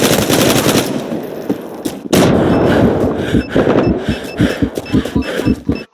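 Gunfire in the video game Zula during a bomb-defusal round, with loud, dense automatic bursts and rapid shots rattling continuously up close.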